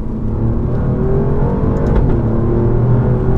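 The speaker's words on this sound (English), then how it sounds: "A twin turbo V6 Ferrari derived engine." Alfa Romeo Giulia Quadrifoglio with its Ferrari-derived twin-turbo V6, a steady loud engine drone with a rising whine as the car pulls, continuous and close throughout.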